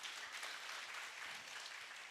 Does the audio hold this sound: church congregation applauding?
yes